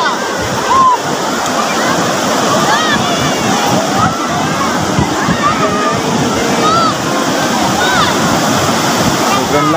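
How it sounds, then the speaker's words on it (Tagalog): Strong waves crashing on a beach, a loud continuous roar of churning, sloshing surf close by, with voices faintly mixed in. "lakas ng alon dito"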